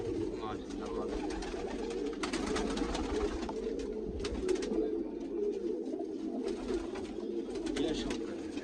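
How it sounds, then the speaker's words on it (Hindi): Domestic flying pigeons coo in a low, continuous murmur from a loft in Hasanpur, kept by a longtime pigeon fancier, with occasional wing flutters and someone talking over the birds. "सब उड़े हुए कबूतर है"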